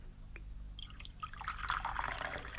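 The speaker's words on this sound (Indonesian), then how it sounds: "Kita dapat menuang teh" Tea being poured, a thin stream of liquid splashing and trickling into a cup, with a single small drip first and then a steady pour that grows slightly fuller over about two seconds.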